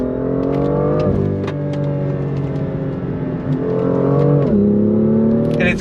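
A 2018 BMW M2 in sport mode accelerates hard, its engine note climbing in loud, close revs that drop sharply at each paddle upshift, twice over several seconds, with no talk.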